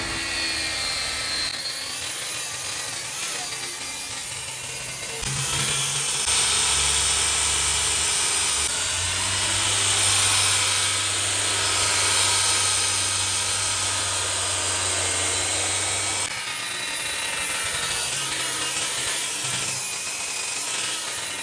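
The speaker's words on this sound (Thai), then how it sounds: "เราก็จะมาขัดอีกรอบหนึ่งนะครับ แต่ครั้งนี้ เราจะใช้ใบละเอียดกว่านะครับ" Power sander with a finer sanding disc grinding across a wooden dining table, a loud continuous close whine and rasp that deepens and swells in the middle as pressure changes, with no talk.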